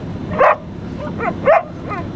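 A small dog sits on the front of a boat and gives two sharp, close yappy barks about a second apart, with softer whiny yips between them over a quiet outdoor background.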